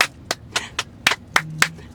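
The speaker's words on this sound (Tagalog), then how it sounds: "pumalakpak ka" Several hand claps keep time along to a Filipino children's song, about seven sharp claps spaced unevenly over two seconds, fairly close, with a brief low hum near the end and no talking.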